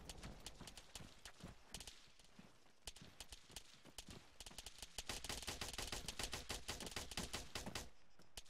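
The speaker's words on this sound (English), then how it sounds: "That's him firing, right?" Gunfire from an enemy in the military shooter Arma 3, a dense stream of sharp cracks and rapid bursts that thickens in the second half, fairly close and steady with no talk over it.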